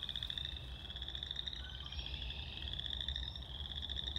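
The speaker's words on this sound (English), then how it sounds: "we can hear some frogs calling. These are chorus frogs." Dense chorus of frogs calling continuously, rapid trilling pulses overlapping into a steady, fairly close rhythmic drone with no voices.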